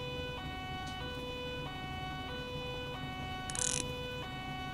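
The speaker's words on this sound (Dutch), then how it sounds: "Doe even mijn sirenes even uit." A police car siren from the video game GTA 5 wails in a steady, loud, up-and-down two-tone cycle, close by, with a brief burst of noise partway through and no talk.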